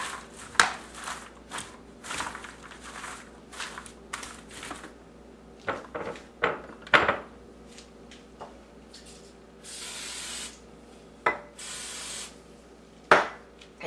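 Hands coated in nonstick spray mixing caramel popcorn, irregular sticky rustles, crunches and squishy slaps close up, with pauses between bursts and a longer hissing spray partway through.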